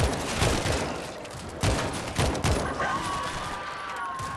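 Bursts of rapid gunfire from World War Z ring out close and loud, several volleys with brief gaps and then a quieter tail, while a voice talks faintly.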